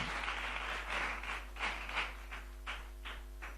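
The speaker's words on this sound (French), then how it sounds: "je voudrais que vous fassiez un maximum d'applaudissements pour elle" Audience applause at a school slam event, a dense burst of clapping that thins out into scattered, separate claps toward the end, with a steady low hum underneath.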